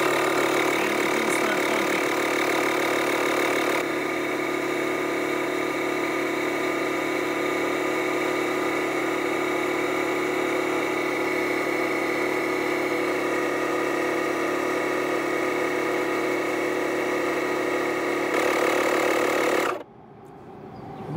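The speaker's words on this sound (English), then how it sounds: "So I'll press the pump button again" The air inflator pump of a LokiThor JA301 lithium jump starter runs as a loud, steady mechanical buzzing drone, close by and unbroken for about twenty seconds before it cuts off suddenly.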